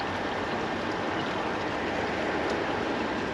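Water running steadily through an open valve into a pond that is losing water, a dense, even rushing wash with no breaks, close and constant throughout.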